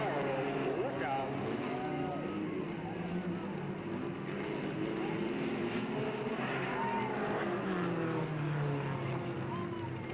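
Race cars on the track at Delta Speedway in 1997, engines droning and revving steadily through a corner from mid-distance, with pitches rising and falling under continuous talk.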